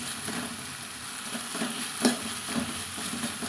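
Okra frying in oil in a pan, a steady soft sizzle with occasional gentle stirring knocks, one slightly louder clink midway.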